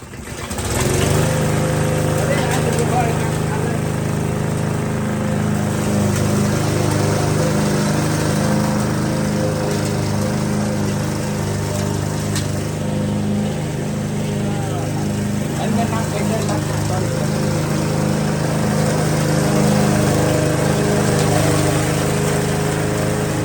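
A grass trimmer engine drones steadily, close and loud, as it cuts grass, a continuous buzzing whine with slight pitch changes and voices talking faintly under it.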